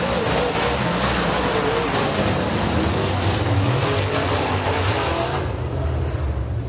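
Super Late Model race cars roar around Eriez Speedway during a heat race, a dense, continuous, loud engine wash from the pack with no break.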